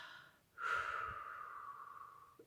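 A person takes a slow, deep breath, a soft rushing inhale that swells after a short pause and holds steady for about two seconds, close and quiet with no talking.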